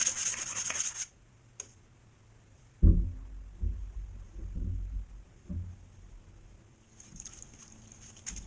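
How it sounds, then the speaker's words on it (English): A tool caked with dried drywall mud is scraped clean in a handful of short, gritty rubbing strokes, close and fairly quiet, with soft knocks and pauses between them and a louder burst at the start. "Mud's caked on there, I'll scrape it off."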